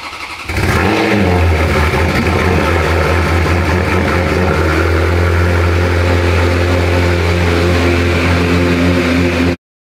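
A Ferrari F430's engine and exhaust rev up sharply after a brief idle, then hold a loud, steady, close-up roar for several seconds before cutting off abruptly.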